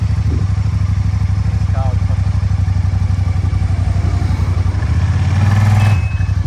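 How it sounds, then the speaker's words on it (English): Kymco CV3 550 three-wheeler scooter engine running close and loud with a steady pulsing chug, then revving up briefly near the end as it pulls away, with a voice talking over it. "Start the bike up."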